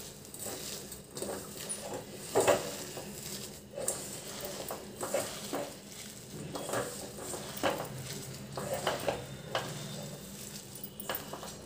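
Bobbarlu vada batter with coriander, salt and cumin worked together by hand in a bowl, giving a run of soft, wet squelching and patting sounds in an irregular rhythm, close and moderately quiet.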